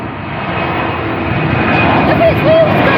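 A DHL cargo airplane's engines roaring near a busy airport runway, a loud broad jet rumble that swells steadily, with people talking briefly over it.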